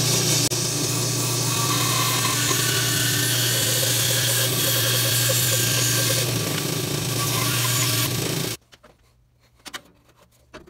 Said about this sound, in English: We're going to go to the bandsaw and make this cut.